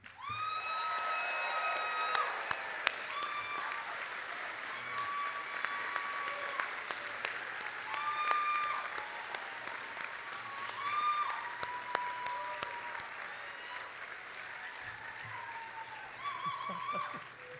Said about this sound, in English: So as our final rousting round of applause